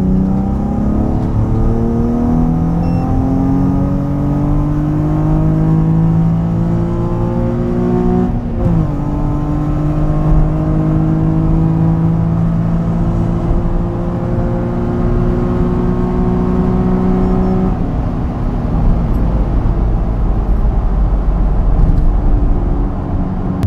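Warm Nissan 350Z on stock software pulling hard from 100 to 200 km/h on a motorway, its engine note climbing through the revs in long sweeps broken by a brief gear change, loud and close over wind and road roar.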